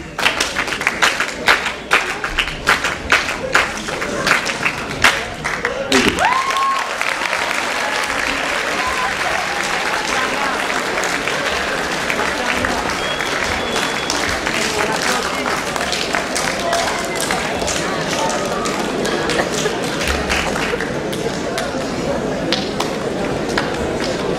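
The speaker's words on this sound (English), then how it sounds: "we would like to have our school clap here" A school assembly claps together at a Founders' Day event, starting with sharp, rhythmic claps before breaking into sustained loud applause from a large crowd, with voices mixed in.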